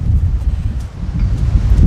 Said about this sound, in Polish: Teraz wiaterek troszeczkę ustał